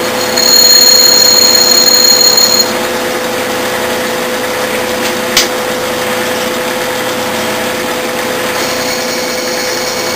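Machine running a reamer in a floating reamer holder to finish a hole in metal, a steady loud mechanical hum with a tonal whine that drops partway through, plus a single brief click near the middle.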